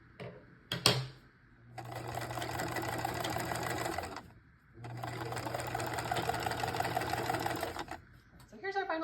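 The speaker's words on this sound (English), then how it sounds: "I'm gonna go stitch around the whole thing, just on the body" Sewing machine top-stitching around the body of a handmade turtle mop, two long steady bursts of rapid mechanical whirring separated by a pause, close and loud, with brief handling clicks around them.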